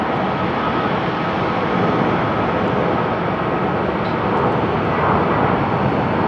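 An Air Do airliner at Haneda Airport sends a steady, loud, broadband jet roar that holds evenly throughout, with no voices over it.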